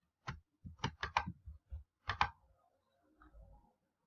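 Computer mouse clicking in a quiet room, a series of crisp close clicks, some in quick pairs, followed by softer faint rattles.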